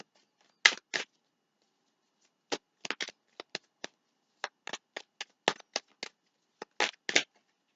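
Tarot cards are cut and shuffled in close, crisp bursts of riffling and snapping, a short double flutter, then a quick irregular run of papery slaps, with no talking.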